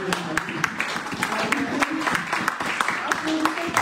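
A church congregation applauding the newlyweds during a Sunday service, dense clapping in quick irregular bursts with voices mixed in.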